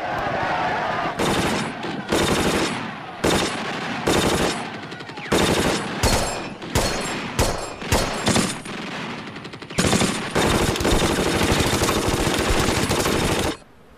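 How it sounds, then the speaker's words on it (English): Machine gun fire in a World War II battle, with loud rapid bursts separated by brief pauses, building to a long sustained burst near the end before it cuts off. "they charge with their bayonets, just as in World War I, in Verdun, against machine gun fire."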